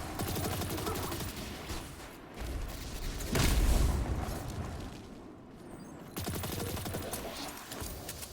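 SMG fire in the video game Destiny comes in rapid automatic bursts, loud and close, separated by brief gaps, with a heavier booming blast near the middle and no talking.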